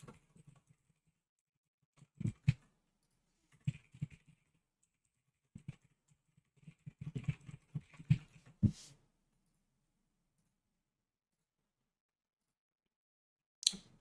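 Computer keyboard typing in short irregular bursts of quiet clicks, clustered and then stopping, with long silent gaps and a final lone tap, close and soft with no talking.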